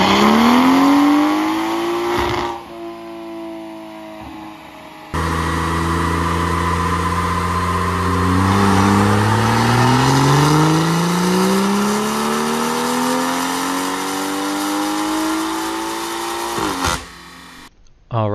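A BMW 340i F30 with a tuned B58 Stage 2+ MHD engine runs on a dyno, a loud, close, continuous engine note climbing steadily in pitch through a long pull before cutting off.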